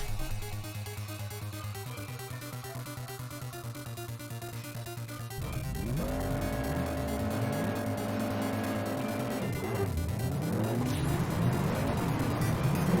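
Engine noise from a racing video game: a car's engine drones steadily, then climbs and shifts in pitch as it races past a Honda CRX, loud and continuous throughout with no talk over it.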